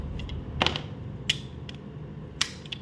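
Bolts being tightened by hand on the timing chain area of a 2012 Honda Wave 110i motorcycle engine, a few sharp metallic clicks and ratchet ticks spaced apart, close up against a quiet workshop hum.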